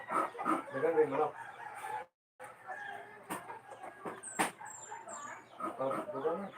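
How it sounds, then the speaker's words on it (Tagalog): A rooster crows amid clucking hens and other farm noise, with people talking nearby and a brief silent gap partway through. "yung manok."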